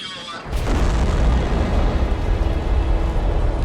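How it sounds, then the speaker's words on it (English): Proton rocket lifting off with the Zarya module for the International Space Station, a sudden loud roar that kicks in after a brief quiet lead-in and holds as a dense, rumbling broadband blast to the end. "Liftoff of the Proton rocket of the Zarya control module."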